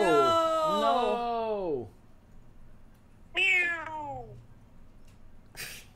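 A cat meows in a drawn-out, wavering cry, then gives a shorter second meow after a pause and a faint brief sound at the end, all heard close and clear.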